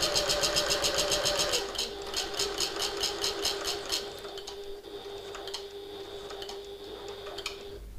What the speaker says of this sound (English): I'm going to sew across this turning gap